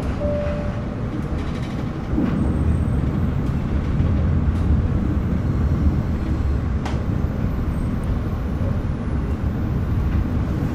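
Steady rumbling interior noise of a KA Parahyangan passenger train under way in late 2025, with continuous wheel and carriage roar and occasional faint clicks and squeaks, no talking.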